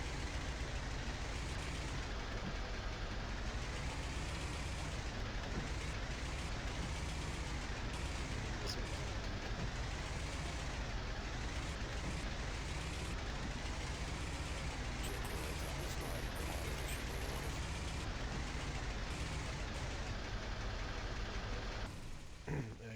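An armored personnel carrier's engine idles in a video game, a loud, steady low rumble that drones on without a break and cuts off abruptly near the end.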